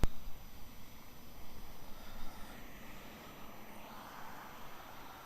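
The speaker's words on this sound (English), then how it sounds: "There's our Qatar 777-300 ER in from Doha." A Qatar Airways Boeing 777-300ER jet airliner arriving from Doha at Melbourne Airport, heard as a faint, steady, distant engine roar with broad rumbling noise throughout.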